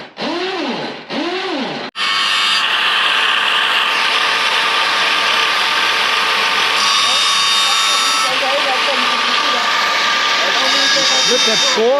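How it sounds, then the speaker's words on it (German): Drilling machine boring holes in steel plates outdoors in Malawi: after a couple of short starts, a loud, continuous, harsh grinding whine runs steadily with faint voices underneath. "Jetzt werden die Löcher gebohrt"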